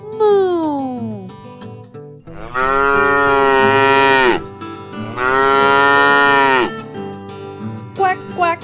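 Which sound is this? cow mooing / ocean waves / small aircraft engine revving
cow mooing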